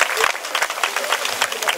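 An audience at a temple wedding ceremony for Sri Lakshmi Narasimha Swamy claps loudly in brisk, sustained applause, a dense crowd close by with some voices mixed in.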